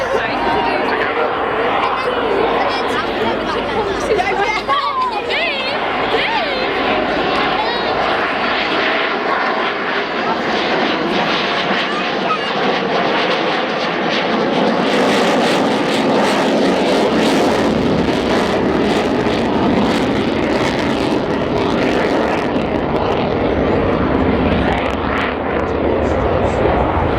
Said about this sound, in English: It's got the power right back at the moment, two F404 GE engines.